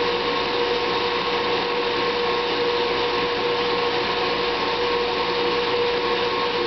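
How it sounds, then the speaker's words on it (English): A blender churns cream into butter with a steady, loud motor whir that holds an even pitch throughout, with no voices. "I like to start off on a slower speed, and then as it goes a little bit you just work it"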